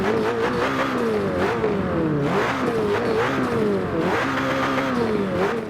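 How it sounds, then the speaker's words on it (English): A McLaren 720S engine fitted with a Super GT exhaust revs repeatedly, rising and falling in pitch, loud and close, with no talking. "Let's rev up the car, see what it sounds like."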